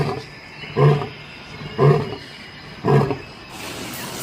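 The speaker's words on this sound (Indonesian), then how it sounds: "Ini singa, teman-teman." A lion gives three deep, evenly spaced roars, each a short grunting burst about a second apart, close and loud over a faint background hiss.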